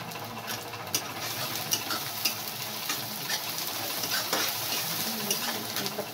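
Capsicum and onion sizzle in hot oil in a pan with garlic-ginger paste, a steady crackling fry with occasional stirring scrapes, fairly close and continuous throughout.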